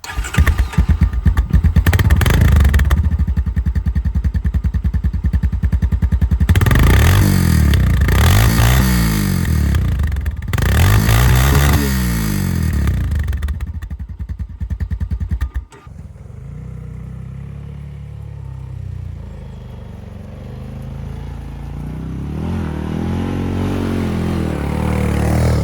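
A Honda Recon ATV engine, 2021 model, starts and revs close by, its rough idle surging through several loud throttle blips and sweeps before dropping suddenly to a quieter idle that slowly builds again.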